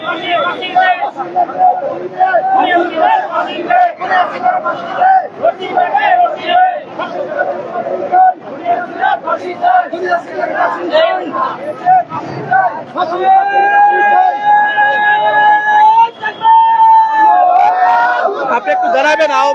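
A protest crowd on a highway, led by a history professor in the front row, chants slogans loudly and continuously, with overlapping voices, shouting and a siren-like wail rising near the end.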